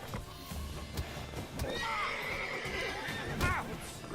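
A horse in The Witcher 3: Wild Hunt whinnies with a rising and falling neigh that runs for about two seconds, with a second shorter whinny after it and faint hoof clip-clop and game ambience behind it.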